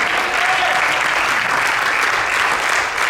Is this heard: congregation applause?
yes